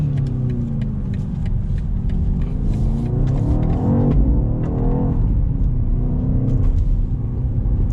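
BMW XM hybrid SUV accelerating hard from a launch, heard from inside the cabin as a loud, steady low rumble with rising engine tones building and swelling throughout, with no talk.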